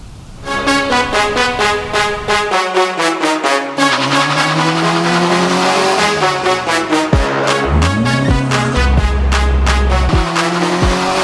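Modified cars race hard in Tehran, Iran, engines screaming loud and close with steady high revs, shifting pitch through gear changes and a long stretch of tire squeal and skidding, with no talk over it.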